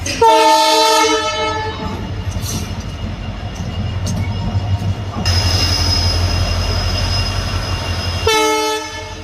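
A train pulls into Bokajan railway station: a loud horn blast opens and returns near the end, over a steady rumble of rolling wheels and faint wheel squeal, close by with no talk.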